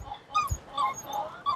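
Dogs whimpering and giving short yips and barks, close by in a garden, several brief high cries in quick succession with a low thump partway through.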